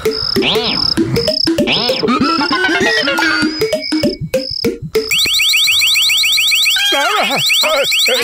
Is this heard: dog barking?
no